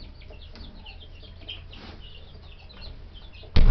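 Young chicks peep and chirp softly in a brooder pen, a steady scatter of small high calls with light rustling, close by, ending in a brief loud bump.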